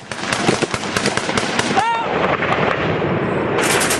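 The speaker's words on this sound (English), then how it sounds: "the assault begins with a hail of gunfire." A dense hail of gunfire opens a Taliban assault at dawn on U.S. and Afghan soldiers, with rapid loud cracks and blasts tumbling over one another close by with no pause.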